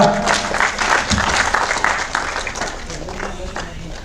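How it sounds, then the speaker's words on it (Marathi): Audience applause at a Marathi poetry award ceremony, a sustained wash of many hands clapping at steady volume, with a voice briefly speaking over it near the start. "टाळ्या टाळ्या"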